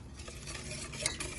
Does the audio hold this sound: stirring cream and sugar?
yes